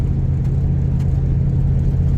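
A van loaded with junk labours up a hill on Georgia Highway 52 near Ellijay, its engine a steady, deep, close rumbling drone that holds without a break.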